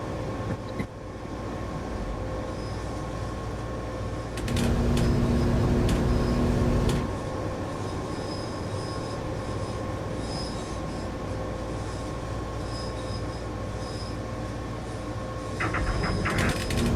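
Train rolling slowly into a station in a Japanese rail simulator game, steady rumbling wheels and mechanical hum with brief squeals and clanks, no talk.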